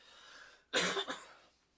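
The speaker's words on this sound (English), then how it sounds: "hold on one second, I got a cough" A single sharp allergy cough bursts out of a quiet room, a quick double-pulse that fades within half a second.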